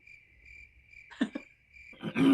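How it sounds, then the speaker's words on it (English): Cricket chirping inserted as a comedic sound effect for an awkward silence, a steady high chirp pulsing alone and faint, then interrupted by brief cough-like throat noises and a louder burst at the end. "This is where she's going to insert crickets."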